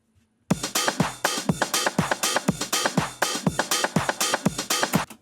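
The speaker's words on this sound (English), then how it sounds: "I actually bounced down the whole drum pattern and resampled it." A punchy, heavily compressed drum loop plays alone, its pitched-down kicks and snares hitting in a steady, driving rhythm with a gritty, resampled character, from a remix.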